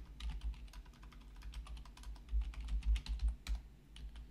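Keystrokes tap out a command on a computer keyboard in a steady, fairly quick rhythm of close, crisp clicks with a few heavier presses, and no one speaks.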